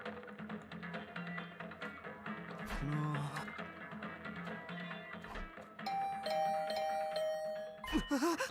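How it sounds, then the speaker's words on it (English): Doorbell chimes in the video game Hundred Line Academy, a repeating electronic ding-dong ringing over background game music, fairly quiet and persistent. "brought back to the land of the living by the unrelentless ringing on my doorbell"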